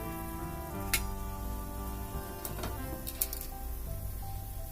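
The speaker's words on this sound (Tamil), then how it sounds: "தண்ணி நல்லா கொதி வந்துச்சு" Water boiling in a pot before Maggi veg noodles go in, a steady bubbling sizzle with a few sharp clinks over a constant hum, close and moderately quiet, no voices.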